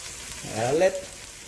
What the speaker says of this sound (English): I'll let the onions soften a little bit.